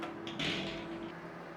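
An oven door handled as a spinach mushroom lasagna goes back into a hot oven, a soft muffled thud and scrape close by, brief and alone.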